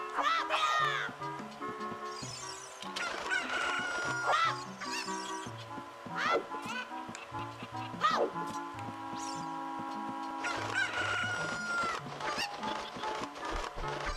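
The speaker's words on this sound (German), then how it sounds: "Hühnchen durch die Gegend werfen macht voll Spaß!" Cucco chickens cluck and squawk as they are thrown around in Zelda: Ocarina of Time, their short calls popping out repeatedly over steady game music.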